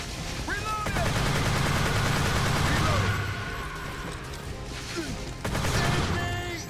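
Rapid gunfire bursts from the video game Earth Defense Force 2017, a loud continuous fusillade with a brief lull before another volley, mixed with clanking game effects and snatches of in-game voices.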